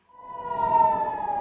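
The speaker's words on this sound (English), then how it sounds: "air raid sirens early Sunday morning sent residents scurrying toward bomb shelters" An air raid siren in Haifa, northern Israel, rises in a wailing tone and holds steady, loud and alone, with a slightly distant, outdoor quality.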